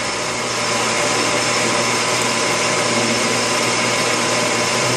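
A metal lathe cutting stainless steel, oiled for a smoother cut, gives a steady, loud mechanical whir with a constant hum and no breaks.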